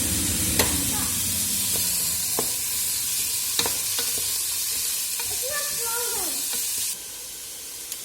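Rice pulao being stirred and mixed in a pot, with spoon scrapes and clinks over a steady frying sizzle and hiss, close and fairly loud, briefly quieter near the end.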